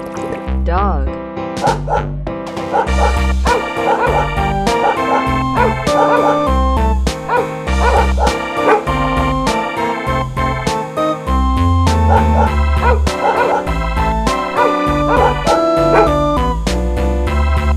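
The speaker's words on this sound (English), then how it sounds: "Dog." A dog barks and yips in a quick rhythmic series over bouncy music, the barks sounding bright and close, repeating steadily through the passage.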